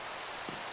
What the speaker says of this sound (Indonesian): Wah, hujannya kok udah gede?